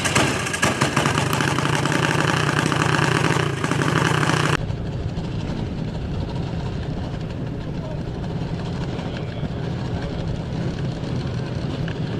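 Junior dragster engines at a drag strip run loud and buzzing for several seconds, then drop abruptly to a quieter steady idle rumble, with announcer speech over the sound.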